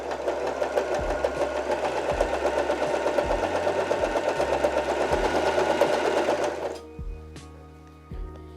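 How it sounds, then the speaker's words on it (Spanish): A Janome 311 sewing machine sews a zigzag stitch with a fast, steady mechanical whir and rapid needle clatter that stops abruptly, followed by a few isolated clicks and knocks as the mechanism settles. "Presionamos el pedal y comenzamos a coser."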